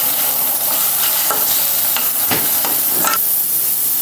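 Tomato and onion paste fries in a pan for fish curry, a steady close sizzle with a few scraping stirs of a small spoon, no talking.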